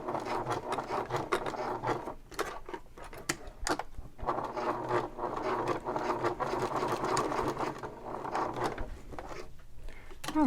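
A sewing machine stitches a Mercury messenger bag strap in bursts of rapid mechanical chatter, stopping briefly and starting again as it backstitches a box at close range, with fabric rustling between runs.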